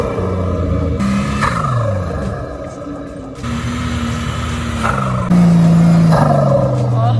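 An 80 Series Land Cruiser, about three tonnes, climbs a sand dune in third gear, low range, with both lockers engaged. The engine strains loud and close in a steady labouring roar, rising in pitch in places.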